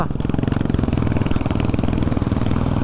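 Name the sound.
motorcycle engine straining to pull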